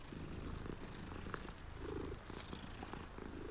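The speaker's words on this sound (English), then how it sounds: "Oh, it's a cat." A soft, steady video-game cat purr from Hogwarts Legacy rumbles continuously and close up, with a faint low background hum and no voices.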